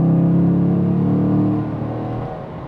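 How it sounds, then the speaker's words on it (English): Holden Commodore SSV Redline V8 in a family station wagon, its engine revving loud and close with a deep, steady rumble that eases off slightly toward the end. "the sound it makes, the V8,"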